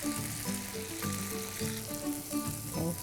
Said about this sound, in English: Okay, saute for a minute.